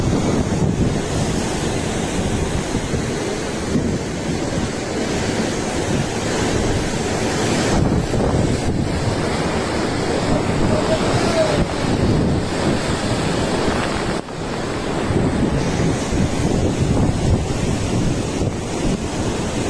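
Strong Cyclone Dana winds buffet a beach while heavy sea waves crash, making a loud continuous roar of wind and surf with gusty swells and no speech.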